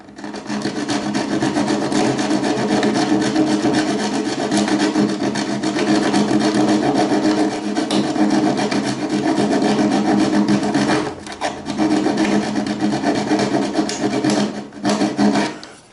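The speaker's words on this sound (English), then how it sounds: "we're just going to get in there and do a little tiny cut or file and clean that up" Steady rasping strokes of hand filing on a wooden boat build, cleaning up an epoxy joint, continuous and close with a brief pause near the end.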